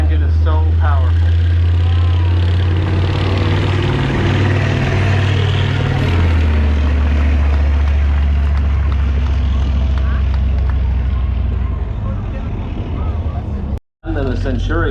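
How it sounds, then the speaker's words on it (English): A tank engine running as it moves at a regimental museum in Ontario, Canada: a loud, heavy, continuous low rumble that holds steady throughout, with a brief dropout near the end. "Not only is the ground shaking, but the air shakes around it as it moves. Wow. The engine is so powerful."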